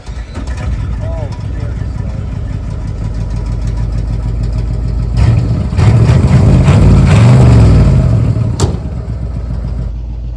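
A 67-year-old Cadillac's engine runs with a steady, loud low rumble throughout, swelling into a rougher, stronger roar midway before settling, close by, while people talk over it.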